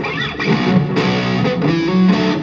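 A heavily distorted electric guitar plays sustained chords, loud and gritty, with a sharp change partway through.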